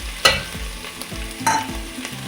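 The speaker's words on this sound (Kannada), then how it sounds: "ಗರಂ ಮಸಾಲ ಪುಡಿ ಹಾಕ್ಕೊತಾ ಇದ್ದೀನಿ" Garam masala powder fries in oil while a spoon stirs it, giving a steady sizzle with regular scraping strokes and a few sharp clinks against the pan. The sound is close, and there is no talk.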